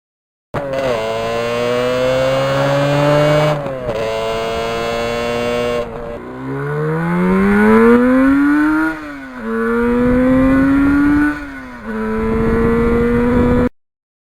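A 1977 Yamaha RD400 two-stroke motorcycle accelerates hard through the gears, each rising engine howl broken by brief gaps at the shifts, loud and close with no talk.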